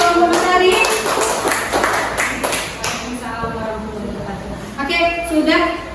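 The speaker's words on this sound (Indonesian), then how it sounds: "boleh tepuk tangan dulu untuk kelompok Matahari" Classroom clapping for a student group, a burst of many hands applauding that thins out, with people talking over it close by.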